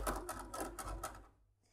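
Sewing machine stitching along a fabric seam slowly, a brief rapid run of close mechanical ticks that fades out within about two seconds, with no talking.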